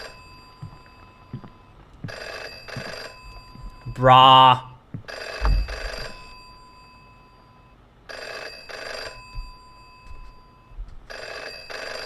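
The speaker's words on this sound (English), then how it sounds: "Where is the phone coming from? Where is the sound coming from?" A telephone rings in an indie horror video game, repeated bursts of ringing spaced a couple of seconds apart, with a man's brief exclamation heard over one ring.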